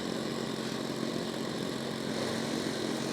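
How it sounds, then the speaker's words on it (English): The number 4 engine of a radio-controlled model B-17 bomber runs at an RC expo, a faint, steady, buzzing drone with no breaks and no talk. "So he's going to crank up one in a number 4 engine."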